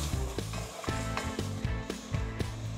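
Stock is stirred into a clam chowder base in a pot, with a spoon scraping in a quick, regular rhythm about twice a second over a soft sizzle, close up and with no talking.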